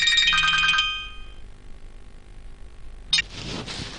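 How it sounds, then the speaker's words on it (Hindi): A mobile phone plays a bright electronic ringtone melody that stops after about a second, leaving a quiet room before a brief clatter and rustle. "आबिश, आबिश तुम्हारा फोन आ रहा है"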